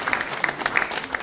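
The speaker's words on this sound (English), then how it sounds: "A big applause to everyone who's cutting the spec" Brief scattered applause from an audience at a tech meetup, a smattering of claps over a low room murmur.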